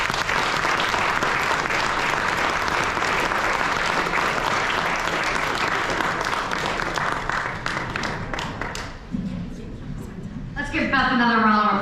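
Dinner audience at a political fundraiser applauds loudly and continuously for about nine seconds, then the clapping fades as a voice begins speaking over its tail.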